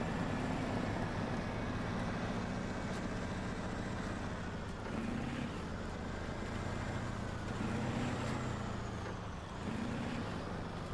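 Steady, loud engine drone of a heavy P16 truck in the video game SnowRunner with a low rumble, continuous throughout, no talking.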